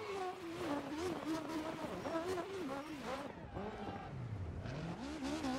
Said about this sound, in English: I want to watch this little handbrake turn across the bridge